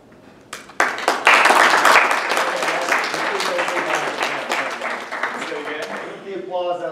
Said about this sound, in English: Applause out there